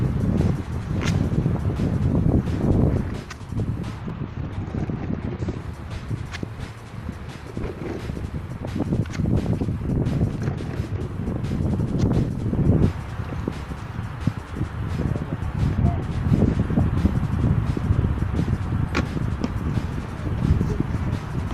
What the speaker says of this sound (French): ce qui est bien, c'est qu'il y a du vent